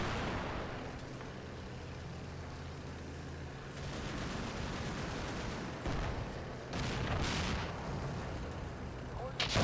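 Artillery fire in the Cold War wargame Combat Mission: Cold War, heard as dense, continuous rumbling barrages and blasts that fill the scene, loud and sustained, with a few sharper bursts toward the end.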